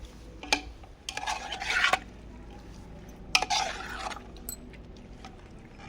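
Chicken biryani marinade with lemon juice mixed by hand or spoon in a bowl, giving wet squelching, rubbing strokes in two main bursts with sharp clicks between, close and moderately loud, without talking.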